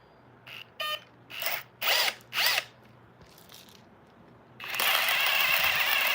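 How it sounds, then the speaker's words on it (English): A power drill set to drill mode with the clutch at maximum runs in several short bursts in a woodshop, then whirs continuously at full speed, loud and close. "I've got this drill set to the full-on like drill setting"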